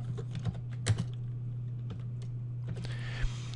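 Computer keyboard being typed on, scattered close clicks of individual key presses with a few louder taps, over a steady low electrical hum, no talking.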